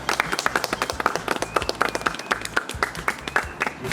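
A small group claps together after a cleaning-academy trainee graduates, producing a quick, fairly dense run of close hand claps that lasts the full stretch, with a voice faintly mixed in.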